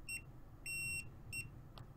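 A faint electronic beep from a multimeter continuity test with a faulty test lead sounds intermittently, three short tones of varying length followed by a brief click, over low background hum.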